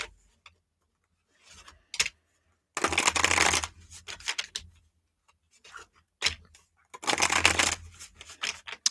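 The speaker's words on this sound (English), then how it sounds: "Let's give these a little shuffle." Tarot cards being shuffled in several quick riffling bursts, close and crisp, separated by short pauses and light handling taps.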